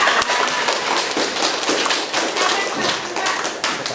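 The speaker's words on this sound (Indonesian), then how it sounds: "tepuk tangan untuk kelompok 2" A classroom claps for a student group, loud, dense, close-up clapping from many hands, continuous and uneven throughout.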